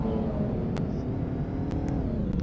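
A jeep engine in the Greenville driving game hums steadily with a low rumble and whirring revs, holding at a constant level throughout with a few faint clicks on top.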